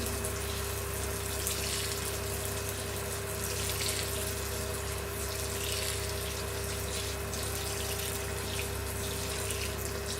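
Water is poured steadily into a potted jasmine plant, a continuous close splashing and trickling that runs unbroken with no talk.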